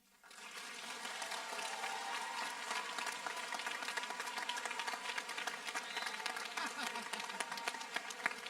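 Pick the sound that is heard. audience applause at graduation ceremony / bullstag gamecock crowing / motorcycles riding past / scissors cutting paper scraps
audience applause at graduation ceremony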